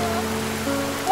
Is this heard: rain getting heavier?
yes